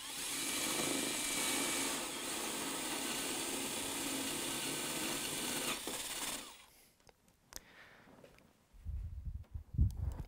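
A power drill bores through a small hole in a door while fitting a peephole, a loud steady whirring drone for about six seconds that stops abruptly, followed by a few faint clicks and handling knocks.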